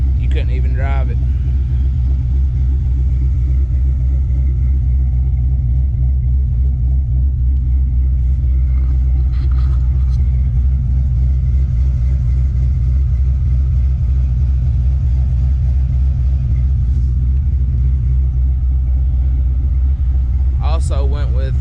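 A 2003 Mustang GT with a stage 2 cam idles with a loud, steady, lopey low rumble that runs the whole time, close to the microphone, with only a few brief faint noises on top.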